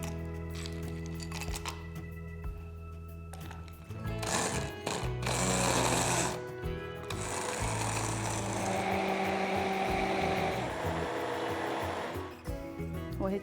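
A blender whirs loudly while mixing a strawberry lassi drink with vanilla essence, lemon juice and ice, running in bursts with steady motor whine and rattling ice, no talk over it.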